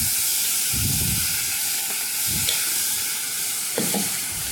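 Strawberries cooking in a pan for a strawberry tart are stirred in several separate sweeps over a constant bubbling hiss, each pass a short scraping swish.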